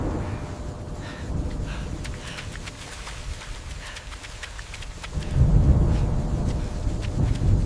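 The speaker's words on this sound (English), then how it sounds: "in pouring rain in the middle of the night with" Pouring rain in a night thunderstorm with lightning at the start of an ultramarathon: a constant hiss of heavy rainfall, with a deep rumble of thunder swelling loudly over the final seconds.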